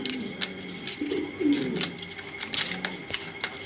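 Black top-quality exhibition pigeons cooing close by, a run of soft low rolling coos with faint bird rustles and background noise, no talk.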